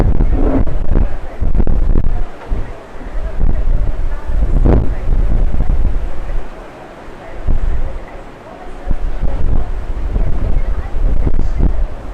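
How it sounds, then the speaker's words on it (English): Strong outdoor wind buffeting a microphone in irregular gusts, rumbling and thumping, with brief lulls between bursts and no voices heard. "This wind is OD."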